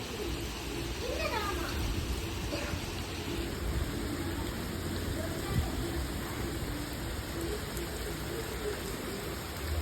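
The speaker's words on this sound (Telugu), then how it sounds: "ప్రజెంట్ మదనపల్లిలో భారీ వర్షం అయితే పడుతుందండి." Heavy rain pours steadily in Madanapalle, a dense, continuous hiss of rain on surfaces lasting throughout, with faint bird calls in the background.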